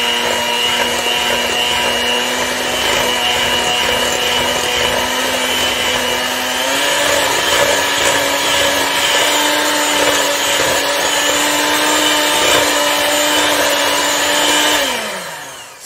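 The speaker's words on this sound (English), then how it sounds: "So I need to whisk it until it's light and fluffy" Cupcake batter for mango cupcakes is whisked in a bowl with a steady electric whirring drone, loud and continuous, that shifts pitch slightly partway through and winds down at the end.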